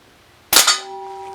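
A Crosman 1377 American Classic .177 pellet pistol fires a single sharp, loud shot, followed by a brief ringing tone that fades slowly.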